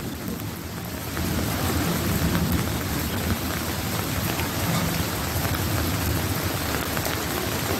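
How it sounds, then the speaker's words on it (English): Heavy rain in the countryside, with rolling thunder rumbling low underneath. A softer patter swells into a loud, steady downpour after the first second and stays dense and close throughout. "Thunder rolling."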